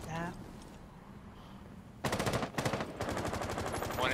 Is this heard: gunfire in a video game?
yes